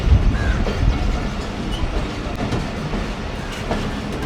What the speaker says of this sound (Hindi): और ये ट्रेन हमारी बढ़ रही है डायमंड क्रॉसिंग की तरफ।